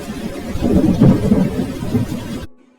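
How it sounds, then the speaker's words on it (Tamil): Thunder and rain over a field in a Tamil cartoon story: a loud, close, rumbling roll lasting a couple of seconds before cutting off abruptly into silence, with no voices. "அப்ப திடீர்னு எங்கிருந்தோ வந்த மழை மேகங்களால வயல்ல மழை பெய்ய ஆரம்பிச்சது"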